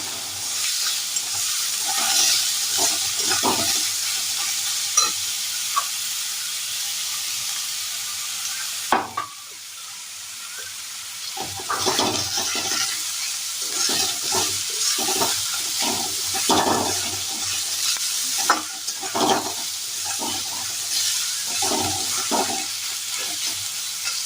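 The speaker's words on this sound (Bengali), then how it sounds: "পেঁয়াজটা একটু ভাজা হতে হতেই আমি দিয়ে দেবো এর মধ্যে কেটে রাখা কাঁচা লঙ্কাগুলো।" Chopped onion with green chillies frying in oil in a wok for Kolkata-style fish kachori, a loud steady sizzle broken by scraping stirs and clatters, briefly dipping midway before resuming, with no talking.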